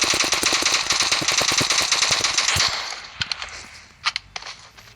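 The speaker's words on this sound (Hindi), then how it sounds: "तो इसी तरह से आप तेज़ फायरिंग कर सकते हैं" An SKS rifle in the BGMI mobile game fires in rapid tapped bursts, a fast, steady stream of loud, sharp shots that thins into scattered single cracks toward the end.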